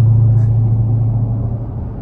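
Low, steady rumble from a Dodge Hellcat cruising on a rainy highway, heard from inside the car as a loud, continuous drone that eases slightly toward the end, with no talking.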